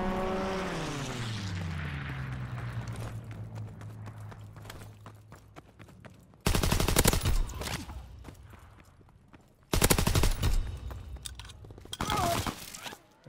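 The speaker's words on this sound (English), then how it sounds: "Enemy strafing run, inbound." Bursts of aircraft strafing gunfire in the Call of Duty: WWII video game, arriving as three loud, dense rattling volleys after a descending engine drone fades, with quieter game sounds between.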